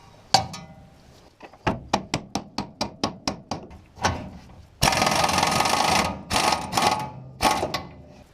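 An impact wrench rattles at a ball joint nut on a 1968 Mercury Cougar front end, first a string of sharp regular clacks, then loud sustained buzzing bursts with short pauses between.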